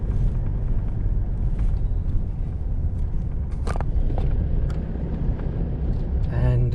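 A car rolls over a worsening, rough road on the outskirts of Maputo, Mozambique, with a steady low rumble, wind buffeting and occasional knocks and rattles from the bumpy surface. Someone talks over the noise.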